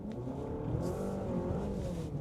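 A 2025 Honda CR-V Hybrid's wheels spin on icy snow with traction control off, giving a steady, muffled drone of motor and tire churn heard from inside the cabin, with no talking.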